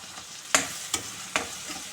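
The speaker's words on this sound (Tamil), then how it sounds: "வெங்காயம் தக்காளி வதங்கிறதுக்கு அளவு போதும்" Onion and tomato sautéing in a pan for millet upma, a soft steady sizzle with three distinct scraping stirs spaced evenly, close but fairly quiet.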